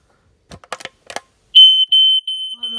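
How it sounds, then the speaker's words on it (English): A household smoke alarm being tested, a few clicks of pressing its button followed by a loud, piercing high-pitched beep that sounds in sustained bursts right up close. "Fire alarm's working fine."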